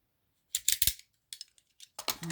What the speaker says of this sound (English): I'm going to have to use scissors for this next part